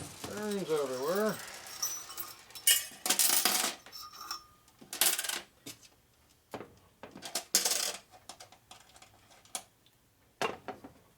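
Loose bearings from a 1947 Harley-Davidson EL knucklehead 74ci lower end clink and rattle as they spill and drop onto a hard surface, sharp metallic taps scattered in clusters, close by, after a brief whistled tone at the start.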